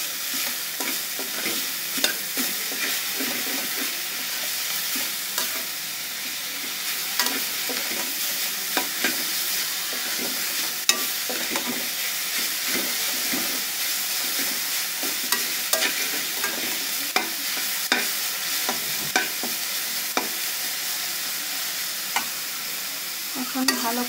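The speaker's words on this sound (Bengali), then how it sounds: "এখন ভালো করে 2 থেকে 3 মিনিট এপাশ ওপাশ উল্টিয়ে পাল্টিয়ে দিলেই শাকটা হয়ে যাবে" Radish greens are stirred and fried in a pan, giving a loud, continuous sizzle broken by repeated scraping strokes of the spatula throughout, with no talking.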